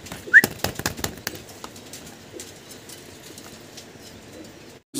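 Large fancy pigeons on a farm, close-up: a few quick bird calls in the first second, then faint soft sounds over a quiet background.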